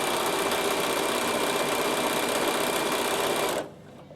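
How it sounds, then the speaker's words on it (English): A sewing machine runs flat out for satin stitching on a garment bag applique, a loud, even, rapid motor hum close by that stops abruptly near the end. "You now want the machine to do all of the satin stitching."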